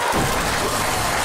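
Studio audience applause fills a SuperBingo TV draw show, a dense, steady wash of clapping that stays loud and even from start to finish, with no pauses or distinct claps standing out.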